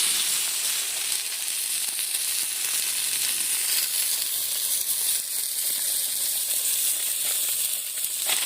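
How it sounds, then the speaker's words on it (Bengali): Bay leaves sizzle in a small amount of hot ghee, producing a loud, steady, close hiss with faint crackling that runs without a break. "ঘিটা দিয়ে একটু নেড়ে চেড়ে নিলাম দুটো তিনটে তেজপাতা দিয়ে দিচ্ছি"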